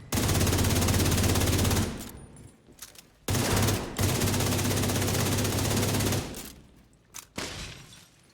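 Sustained rapid automatic fire in a shooter video game, two long loud bursts separated by a short pause, followed by scattered shots and quieter game sounds.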